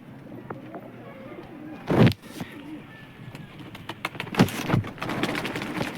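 Large pigeons in a loft coo softly in low, rolling calls, with a few louder flutters and knocks, one burst near the start of the second second and more in the last seconds, under faint background hiss.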